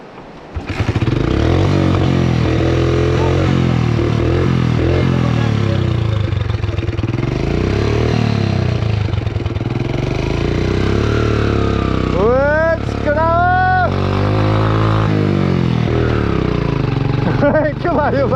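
A modified Yamaha FZS V2 motorcycle fitted with a wider FZ25 handlebar, engine running steadily near the microphone with a deep continuous drone, under ongoing talk and a brief rising whine partway through.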